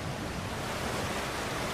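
Water rushes and flows steadily in God of War Ragnarok, a continuous broadband wash like surf with no voices over it.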